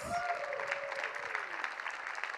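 A crowd at an award presentation claps continuously and fairly loudly throughout, with a brief tonal sweep fading underneath near the start.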